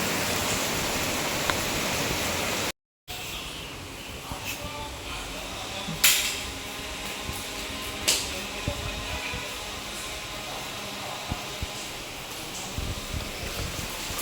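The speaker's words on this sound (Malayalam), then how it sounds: "മഴ പെയ്യുന്നു ഗൈസ്, നല്ല മഴയുണ്ട് കേട്ടോ പുറത്ത്." Heavy rain falls outside a home, a dense, loud, unbroken hiss that fills the whole stretch with a brief dropout early and a few sharp knocks standing out from the roar.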